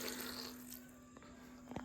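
Water poured into a pressure cooker of drumstick-leaf sambar, heard as a faint, brief trickling splash over a low steady hum, with a couple of small drips near the end.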